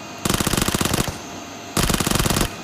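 Two loud, close bursts of rapid automatic gunfire shooting an enemy in PUBG Mobile, each lasting about a second with a short pause between them.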